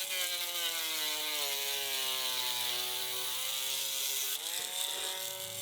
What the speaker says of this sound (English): I'll use the rotary tool and a little bit to finish them off